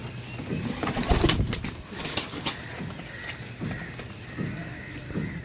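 Quails call from a cage among several birds, with repeated soft cooing and chirping notes near and far over a busy background of rustling and distant voices.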